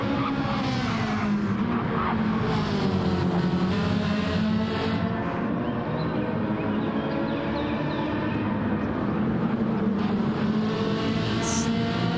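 BMW M6 race car engine on the Monza circuit in a Road to Le Mans racing game, short shifting without using full revs, a continuous loud engine roar with repeated rising and falling pitch as gears change, no talking.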